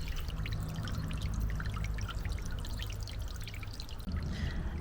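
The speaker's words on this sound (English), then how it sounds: "It's nice just to hear a little bit of running water as well." Steady trickling and splashing of running water in a garden pond, close by and continuous, with a low hum underneath and no talking.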